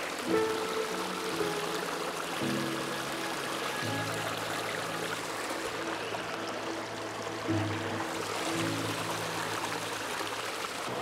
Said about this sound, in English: we've got some really nice waterfalls going on behind